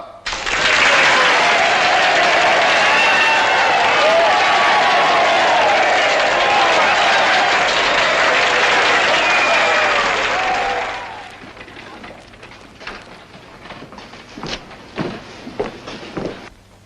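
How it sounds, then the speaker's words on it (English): Audience applause fills a theatre with loud, dense clapping for about eleven seconds before it cuts off sharply, leaving scattered claps and faint shuffling and movement. "Applaud!"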